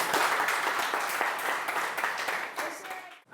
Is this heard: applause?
yes